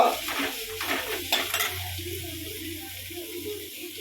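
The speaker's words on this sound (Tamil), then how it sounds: "சட்டியும் ஏதோ வெங்காயம் வதக்கிட்டு இருக்கானே" Onions sautéing in a home kitchen pan, with stirring clatter and brief utensil scrapes early on, then a soft steady sizzle continuing close by, with no talk.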